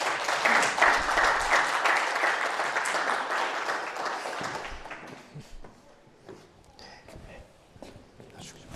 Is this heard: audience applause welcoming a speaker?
yes